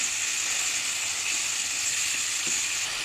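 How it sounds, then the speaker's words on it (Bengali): Salt, turmeric and chili powder sizzle steadily in hot oil while being stirred for a desi chicken and jackfruit curry, a continuous close frying hiss with no voices. "লবণ, মরিচের গুঁড়ো, ভালো করে কষিয়ে নেব।"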